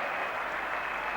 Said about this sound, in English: the crowd has gone noisily berserk